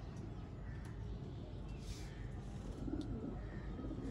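Sialkoti roof pigeons with clear eyes cooing steadily in a loft, soft low murmuring calls layered over a continuous rumbling background, with faint chirps mixed in.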